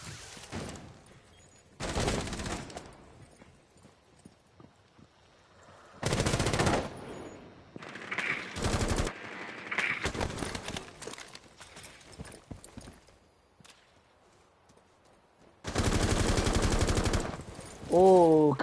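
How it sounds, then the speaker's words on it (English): Bursts of rapid gunfire in a competitive video game match come in loud, dense volleys separated by quieter gaps, with a commentator's voice talking over the action in places. "Oh, a couple shots in, Mike."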